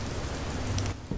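Rain in the horror video game Fears to Fathom, a continuous even downpour patter at moderate loudness, heard alone with no voices.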